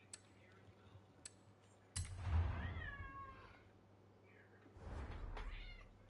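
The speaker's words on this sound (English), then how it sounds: "Meow." A cat meows softly during a live video-game stream: one drawn-out meow followed by a second, quieter one a few seconds later, close by and alone over a low background hum.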